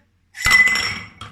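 A single sharp clink of glass striking glass, ringing briefly before a second lighter knock.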